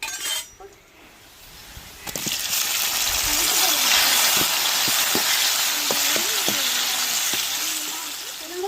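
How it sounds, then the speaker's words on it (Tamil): Tomato and onion sizzle and fry steadily in hot oil, with occasional clinks and scrapes of a utensil stirring the pan. "தக்காளி வெங்காயம் இந்த எண்ணெயிலே நல்லா வதங்கி வந்துருச்சு"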